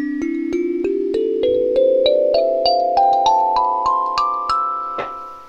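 A Gaharu kalimba plays a clear ascending run of plucked metal tines, about a dozen evenly spaced notes rising in pitch and ringing together, close and bright with a sustained shimmering wash, no talking.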